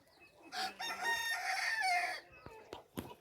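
A rooster crows loudly nearby, one long drawn-out call lasting about a second and a half, followed by a few short clucks from nearby fowl.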